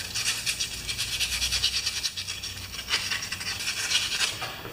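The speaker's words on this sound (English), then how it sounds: "Little sandpaper on the shaft." Sandpaper is rubbed back and forth on the shaft of a pressure washer pump, making quick, close, rhythmic scratchy strokes with a brief break in the middle.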